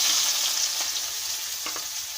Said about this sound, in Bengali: প্রথমে পেঁয়াজটা কড়াই দিয়ে ভেজে নেব।